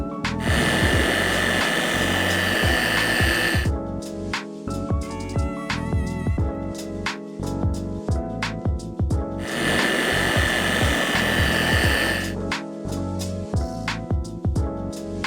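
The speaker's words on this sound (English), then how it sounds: "today we're going to use our newly released Auto Finesse dual action polisher, the DPX, with a 5-inch backing plate" An Auto Finesse DPX dual action polisher with a 5-inch backing plate works the paint of a Porsche Cayman GTS, giving two sustained high whirring runs with rattling, clicking handling noises between and after them, close by.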